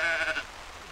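Sheep bleat in a farmyard, a single drawn-out wavering bleat at moderate distance followed by quiet outdoor ambience, with no talking.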